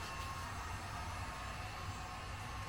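A heat gun warming Tesla Model Y trim blows a steady, close airy whoosh with a low fan hum, unbroken as it sweeps back and forth.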